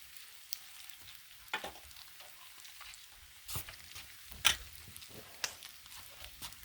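Eggs frying on a Blackstone flat-top griddle give off a faint, steady sizzle, broken by a few scattered crackles and spatula taps, with no talk.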